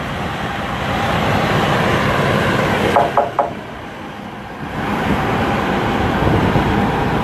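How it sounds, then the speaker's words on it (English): Heavy road traffic with buses rumbles steadily nearby, a large bus roaring past, briefly easing with a few clanks before the noise swells again. "As you can probably not hear me now with the buses."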